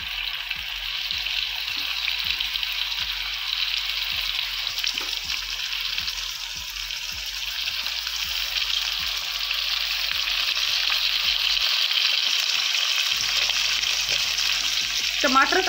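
Chopped tomatoes frying in a pan for a mutton drumstick curry, giving a steady bright sizzle with scattered small pops and a few stirring scrapes, close and continuous.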